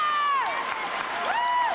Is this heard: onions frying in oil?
no